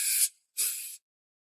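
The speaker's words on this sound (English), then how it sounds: "Silicone spray around there," Two short, sharp bursts from an aerosol can of silicone spray hiss close by during drainage installation, separated by a brief pause, then silence.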